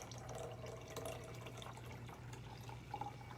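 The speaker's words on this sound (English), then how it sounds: "Add some water." Water poured into a flask of oil for a homemade lava lamp density experiment, a steady close trickle running for a few seconds with a faint splash near the end.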